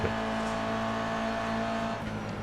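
A Toyota GR86 race car at Spa-Francorchamps holds a steady, loud engine drone from inside the car, a constant buzzing tone with little change over the short stretch.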